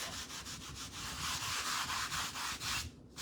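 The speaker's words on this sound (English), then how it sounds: "you just want to kind of apply it, a thin layer, and then you want to kind of rub it off" Rubbing a thin layer of craft medium off a surface by hand, a steady close scratchy friction with rhythmic back-and-forth strokes that stops abruptly near the end.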